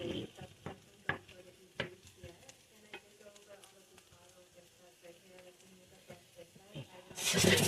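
Sausages sizzle softly in a pan while the pan is shaken, with scattered clinks and scrapes and a burst of louder sizzling at the end; a voice talks quietly in the background.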